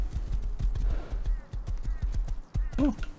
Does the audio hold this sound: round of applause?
no